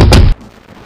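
A rocket launcher blast and explosion from the Jurassic Park video game, once played on the Super Nintendo, hits as a loud, booming burst for about a third of a second, then cuts to a faint, low background.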